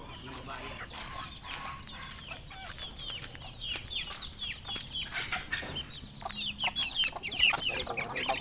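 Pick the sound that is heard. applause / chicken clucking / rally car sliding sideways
chicken clucking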